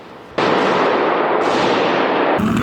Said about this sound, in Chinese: 也有人咪伫边仔录到连续枪声